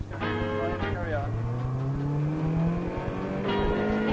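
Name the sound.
car racing around Mondello Park track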